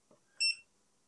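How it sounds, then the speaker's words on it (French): A single short electronic beep from a Laserpecker LP2 laser engraver connecting over Bluetooth, bright and clear, rising briefly after a faint click in an otherwise quiet background. "Vous avez entendu le bip, ça y est,"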